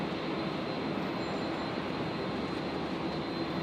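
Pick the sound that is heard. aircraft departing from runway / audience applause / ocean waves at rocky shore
aircraft departing from runway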